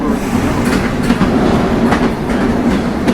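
A New York subway train running, a loud continuous rumble with rhythmic clickety-clack from the wheels, heard from inside the car and steady throughout.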